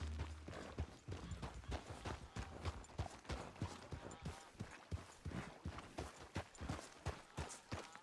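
Rapid, rhythmic hoof clops from a galloping horse in Red Dead Redemption 2, steady and fairly faint, with a thin mechanical backdrop and no talking.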